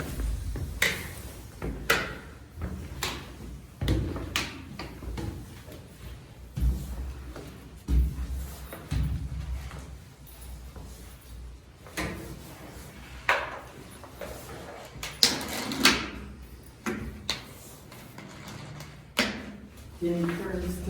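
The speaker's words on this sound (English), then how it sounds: "you can just go up the steps and knock your cane each time." A white cane knocking on the steps of a simple indoor staircase while someone climbs, repeated sharp taps and thuds in an uneven stepping rhythm, close by, with a person talking over much of it.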